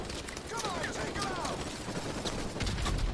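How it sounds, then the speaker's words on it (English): Suppressive gunfire in Call of Duty: Modern Warfare Remastered, a steady wash of distant rapid shots and rumble with faint whistling streaks, continuous throughout and growing heavier near the end. "We need to get rid of the suppressive fire."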